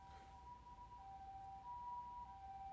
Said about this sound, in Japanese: ピーポーピーポーうるさいです。